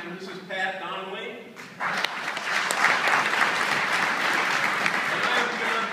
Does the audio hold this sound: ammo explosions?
no